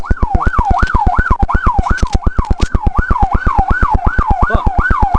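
An Arkansas State Police car siren wails loud and close, its rapid yelping tone cycling evenly and continuously over a steady rhythmic engine throb.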